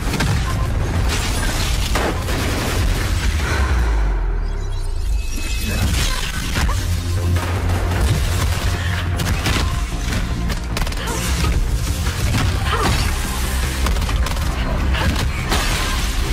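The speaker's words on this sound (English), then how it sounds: "I can see them shooting at her" Gunfire and crashing action from an EA video game trailer, a dense loud wall of shots, impacts and booms running continuously under a dramatic score with no quiet gaps.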